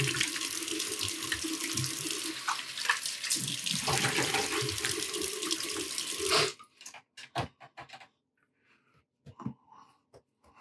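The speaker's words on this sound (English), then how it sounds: "Okay, so I'm going to rinse off the alum." A tap runs steadily into a sink for several seconds while alum is rinsed off after a wet shave with a Gillette Super 109 safety razor, then cuts off, leaving scattered drips and small splashes.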